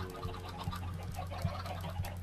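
A chicken in the Minecraft video game clucks in short repeated bursts about every half second, steady and fairly quiet over a faint background hum.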